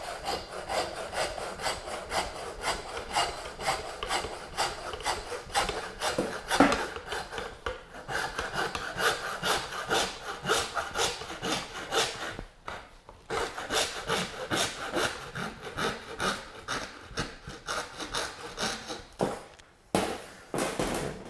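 A knife cuts excess meat from the back of a deer cape during caping for a taxidermy shoulder mount, giving close, rough rasping and scraping strokes in quick uneven bursts with brief pauses, fairly quiet and without speech.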